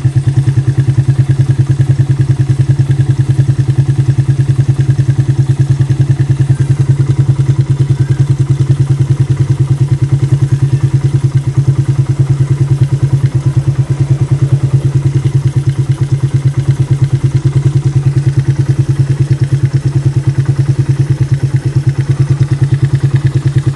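A motorcycle engine fitted with a freshly cleaned Koso carburetor runs steadily at idle, a loud, continuous low throb with a faint mechanical clatter that holds unchanged throughout, with no talking.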